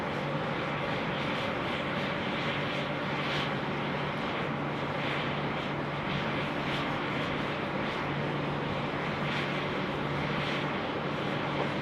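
A steady, moderate jet drone from an Airbus A330 airliner at Sydney Airport hums on without a clear pass-by, and no voices are heard.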